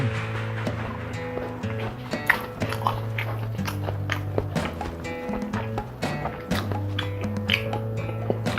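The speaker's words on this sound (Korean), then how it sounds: "두 점은 와사비장에 한번 찍어 먹어보겠습니다" Someone chews boneless jokbal (pork hock) dipped in wasabi sauce up close, with repeated moist bites and smacking chews in an irregular rhythm over a low steady background hum.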